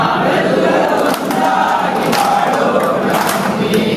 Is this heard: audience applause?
yes